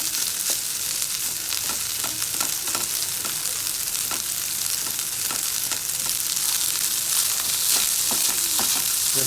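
MTR ready-to-eat tomato rice fries in a pan with a steady bright sizzle, while a spoon stirs and scrapes it in irregular taps throughout, close and continuous.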